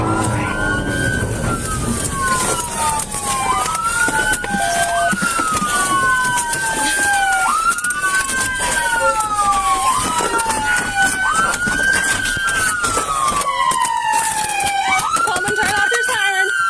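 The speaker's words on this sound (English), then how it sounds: "turn off your siren." A loud police car siren wails continuously up close, its pitch sweeping up and down in repeated cycles over engine and road noise.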